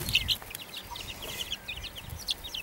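A hen tending her three-week-old chicks gives faint, soft clucks and chirps, heard at a distance over low background noise.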